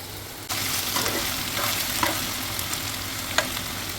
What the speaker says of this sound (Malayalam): ആ ഓയിലിൽ നമ്മൾ ബാക്കിയുള്ള ഉള്ളി പട്ട ഗ്രാമ്പു അതൊക്കെ വയ്ക്കുക